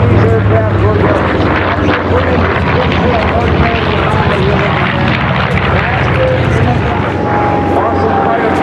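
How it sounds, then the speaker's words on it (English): A B-25 Devil Dog bomber roars past at the 2012 Alliance Air Show, its loud droning piston engines and propellers filling the air while an announcer talks over it. "Here comes the Devil Dog B-25."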